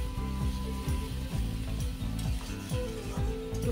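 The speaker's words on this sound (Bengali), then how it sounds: "আদা রসুনটা একটু ভালো করে ভেজে নিয়ে তারপর টমেটোটা দেবো।" Ginger and garlic sizzle in a pan, a steady, close frying hiss with rhythmic scraping of a utensil stirring through it, and no talking.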